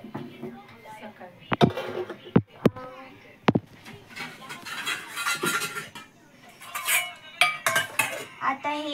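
A metal pot is covered with its lid over soaked rice and dal, with several sharp clinks and clatters of metal on metal, while someone talks.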